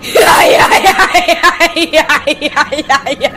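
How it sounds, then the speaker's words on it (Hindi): A woman in an animated Hindi horror story lets out a loud, close, shaky cry that breaks into rapid rhythmic pulses, like sobbing screams, lasting a few seconds. "तब जाके मेरी चीख निकली।"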